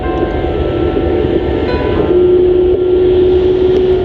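A Shanghai–Chengdu sleeper EMU high-speed train runs on the Zhengzhou–Wanzhou line, heard from inside as a steady loud rumble with a sustained tonal hum joining partway through.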